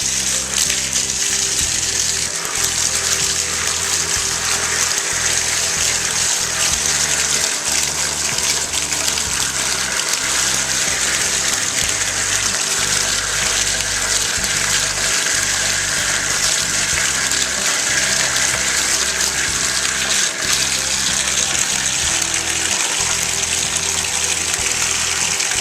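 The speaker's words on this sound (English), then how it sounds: "So the way we use these is under the running water, we dissolve it and crumble it up so that it's dissolved." Bath water gushing steadily from a tap into a filling tub while a bubble bath bar is crumbled and dissolved under the stream, a loud continuous close rush with no talk.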